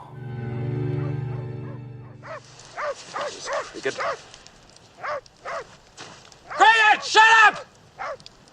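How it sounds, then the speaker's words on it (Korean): A dog in a forest gives a series of sharp barks and yips after a sustained droning tone fades, the barks coming in uneven bursts, the loudest pair near the end, fairly close. "하지만 크리켓이 짖는 것을 멈추지 않자"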